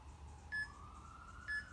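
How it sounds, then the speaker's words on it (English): Two short electronic beeps about a second apart from a workout timer at the end of a kettlebell session, clear but not loud over a quiet room with a faint rising tone and low hum. "Wait for the timer."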